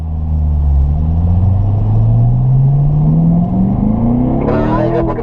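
A car accelerating hard on a race track, its loud engine note climbing steadily in pitch through a gear, then a quick shift near the end; close and dominant, with a voice talking over it.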